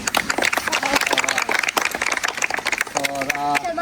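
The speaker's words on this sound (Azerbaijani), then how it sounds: "Rəhimə müəlliməni alqışlayaq" A group claps for a teacher during an outdoor nature-park outing, with quick uneven clapping running under loud talk and a voice rising near the end.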